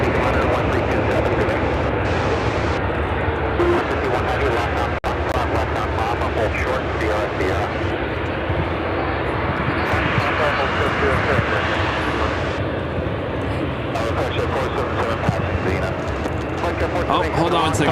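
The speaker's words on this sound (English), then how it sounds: "This is Atlas Air 9181 taking off." An Atlas Air cargo jet takes off from Chicago O'Hare's runway 9 center, its engines roaring steadily and loud throughout, with a voice talking faintly underneath.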